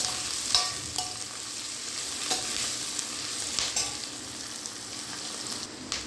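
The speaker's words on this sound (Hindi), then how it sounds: "बस अभी तो प्याज को भून लें, 1-2 मिनट लगेगा इसको भूनने में।" Onions fry in a pan with a steady, fairly quiet sizzle, interrupted by occasional scraping stirs of a spoon.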